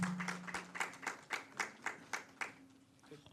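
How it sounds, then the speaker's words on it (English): A small audience applauding at a talk: a thin, sparse round of clapping with distinct, evenly spaced claps, fairly close and quiet, fading out after a few seconds, with a voice briefly audible at the start. "I think that deserves a round of applause."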